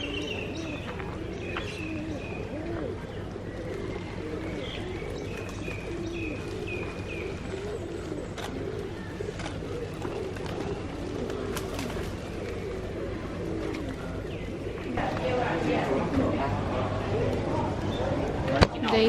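Pigeons coo repeatedly at a tourist spot near James Bond Island in Phuket, Thailand, their soft calls mixing with chirps and a busy outdoor background that grows louder toward the end.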